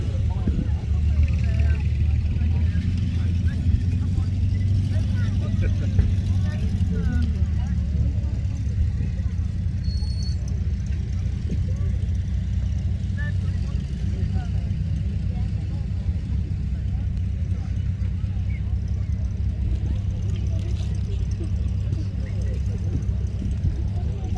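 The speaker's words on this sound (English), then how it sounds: "the Allies are now advancing towards the village. First vehicles to come in are some Bren gun carriers" Bren gun carriers, WW2 tracked vehicles, advance at a 1940s battle reenactment, giving a steady low engine rumble that holds at an even level throughout, with no clear peaks.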